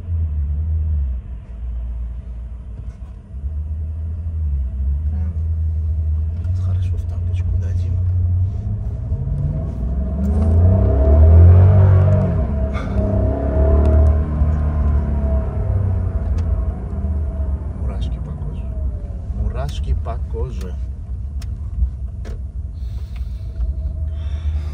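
A Maserati Quattroporte engine in sport mode rumbles low and steady, swelling into a louder, deeper rev midway before settling back, with occasional clicks.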